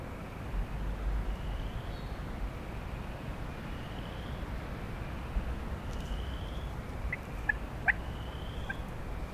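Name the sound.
turkeys gobbling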